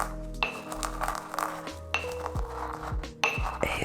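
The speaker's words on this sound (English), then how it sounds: "we're going to grind them up using a mortar and pestle" Peppercorns crushed in a mortar with a pestle: repeated clinking, grinding strikes close up, with sharp ringing taps and gritty scraping between them.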